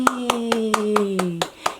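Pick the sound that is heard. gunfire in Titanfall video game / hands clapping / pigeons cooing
hands clapping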